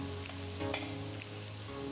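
Chili sauce mixture of sweet chili, tomato and oyster sauces with red bird's eye chilies being stirred in a pan, a steady soft sizzle with faint scraping throughout.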